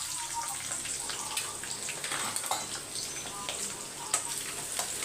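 Onions sizzle steadily in a hot pan with bay leaf, clove and green chilli, giving a continuous close hiss and crackle with small pops and no talking.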